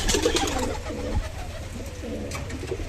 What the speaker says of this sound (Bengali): এটা কিন্তু মাদি কবুতর